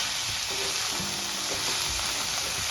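Fenugreek leaves (methi) sauté in oil with a dense, even hiss and sizzle, up close and constant, with a few soft stirring sounds underneath.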